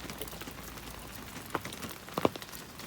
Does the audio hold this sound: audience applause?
no